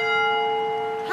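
A church bell rings at 3 o'clock in the morning, with one sustained, ringing tone that hangs steadily and alone before a fresh sound cuts in at the end.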